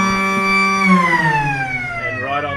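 An ambulance siren arriving at a football ground during a Perth Football League reserves grand final, loud and close, a sustained wailing tone whose pitch sweeps downward.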